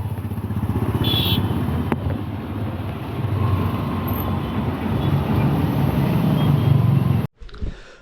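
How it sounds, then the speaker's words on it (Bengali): A ride on an electric rickshaw (toto) on a rainy day: a steady, continuous rumble of the vehicle and road with wet traffic noise all around, sustained throughout and cutting off abruptly near the end. "আমরা যাচ্ছি অ্যাকচুয়ালি টোটো করেই যাচ্ছি"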